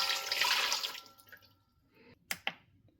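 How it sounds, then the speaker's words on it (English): Warm water poured into a mixing bowl on a kitchen scale for pita dough, a close splashing pour for about a second that tapers off, then two sharp clinks. "Then you're going to add in 320 milliliters of warm water."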